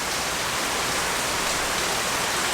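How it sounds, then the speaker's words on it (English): An afternoon rain shower during a storm fills the air with a dense, even hiss of rainfall, loud and close, unbroken and with no voices. "I'm trying to talk over this storm here. Not little storm, little afternoon rainstorm, rain shower."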